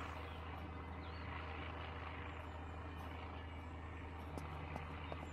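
Supply drop airplane flying over in a video game, a faint steady low engine drone and rumble throughout, with a few brief soft clicks near the end.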